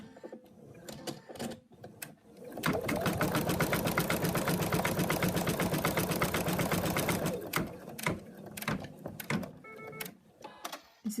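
An embroidery machine stitches the arm of a Madame Mouse design. It starts after a few clicks and hums in a loud, steady rapid rhythm for about five seconds, then stops, followed by scattered clicks and light handling noises.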